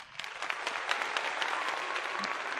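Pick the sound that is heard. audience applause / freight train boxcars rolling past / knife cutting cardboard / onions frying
audience applause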